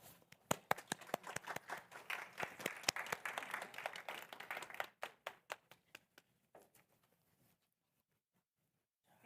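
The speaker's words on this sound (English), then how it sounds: "and we welcome her with an applause" At a research workshop on school violence prevention, an audience claps to welcome a presenter, a brisk patter of many hands that thins into scattered individual claps and then fades to quiet.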